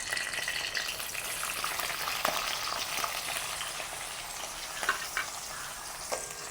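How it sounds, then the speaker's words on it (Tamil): Onion and green chillies sauté in a small amount of oil in a pan, a steady close sizzle with a few louder pops and spatters scattered through it and no talking. "அப்படியே வதக்கி விடுவோம்"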